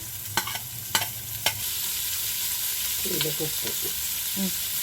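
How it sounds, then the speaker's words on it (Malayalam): Onions frying with fenugreek in a pan give a steady, loud sizzle throughout, broken by a few spoon or spatula stirs and scrapes near the start and middle, with no voices. "ഉലുവ ഒന്ന് ചെറുതായിട്ട് കളർ മാറിയ ശേഷം അതിലേക്ക് സവാള ചേർത്ത് കൊടുത്തിട്ടുണ്ട്."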